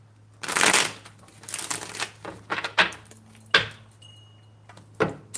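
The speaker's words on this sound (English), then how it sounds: "One more shuffle." Tarot cards being shuffled by hand in a quiet room, a series of crisp riffling bursts and soft slaps, loudest at the start and then several shorter shuffles spaced apart, close and alone without talk.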